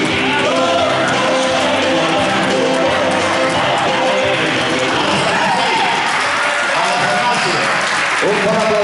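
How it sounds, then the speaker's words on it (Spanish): Audience applause at a lively gathering, steady and dense across the whole stretch, mixed with crowd noise and some voices talking over it. "Un bon aplaudiment."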